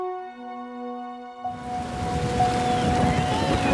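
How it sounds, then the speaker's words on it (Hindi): Steady rain falls as a broad, even hiss, starting abruptly after a brief musical passage and continuing moderately loud to the end. "बारिश हो रही है"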